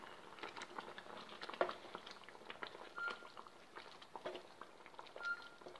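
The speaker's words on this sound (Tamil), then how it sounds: "இது கொஞ்சம் நேரம் ஒரு 5-6 நிமிஷம் கொதித்தோம்னா பன்னீர் மசாலா ரெடி ஆயிடுச்சு" Paneer masala gravy bubbles in a pot, a soft, steady patter of small pops and wet plops running throughout, fairly faint and close, with no one talking.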